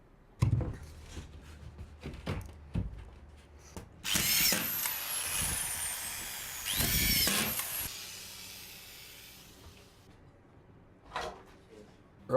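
A power drill drives screws through wall sheets into a jib rail system at 300mm centres for a soundproofed wall, with short whirring bursts, one long drilling run and clattering handling noises between.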